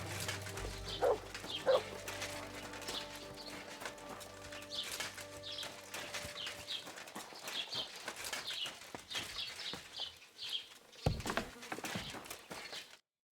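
Dog barking in the medieval game Kingdom Come: Deliverance II, several sharp barks scattered across a busy outdoor scene with hoofbeats, birdsong and faint ambient music, fairly close and moderately loud.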